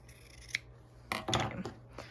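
Scissors snip through a strip of fabric for a scrappy craft bow, a brief early cut followed by a louder burst of rasping snips, close and distinct with no talking.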